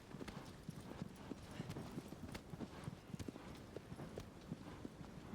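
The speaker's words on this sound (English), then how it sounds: "they make Aggro act like a real horse" Horse hooves clip-clopping in the Shadow of the Colossus video game, a faint, steady walking rhythm of hoof strikes under quiet background sound.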